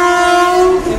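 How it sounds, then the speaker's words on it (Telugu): A WAP 7 electric locomotive hauling the Puri–Okha express sounds its horn as it arrives: a single loud, sustained, steady blast held close by for about a second. "అండ్ మన ఫేవరెట్ లోకోమోటివ్తో వస్తుంది అనమాట."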